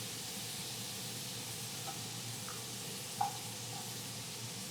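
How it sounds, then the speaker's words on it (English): An ostrich steak sizzles in a pan, giving a steady, even frying hiss that holds throughout, with a few faint ticks and one small pop near the end. "Where both sides of this ostrich are getting cooked fabulously."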